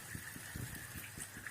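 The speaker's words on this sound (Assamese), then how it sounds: "গৰম পানী দি ল'ম" Hot water gushes steadily into a simmering tomato and rohu fish curry, with a soft pulsing splash as it pours in close by and nobody speaks.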